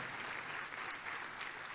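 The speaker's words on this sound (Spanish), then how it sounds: "nunca imaginé que iba a aplaudir eso" A church congregation claps during a sermon in a steady, dense wash of applause from many hands at moderate loudness, with no clear voices.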